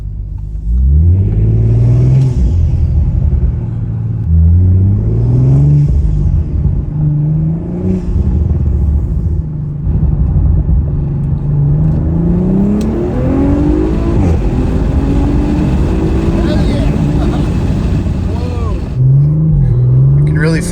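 Audi RS5 with a Stage 1 E85 ethanol tune, heard from inside the car as the engine repeatedly climbs through the revs under hard acceleration, with a loud, steady rumble between the surges and someone talking over it.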